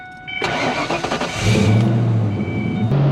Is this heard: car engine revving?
yes